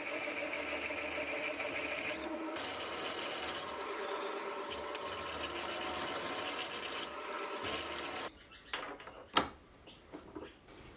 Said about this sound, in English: I'd like to machine the through hole for holding boring bars horizontally.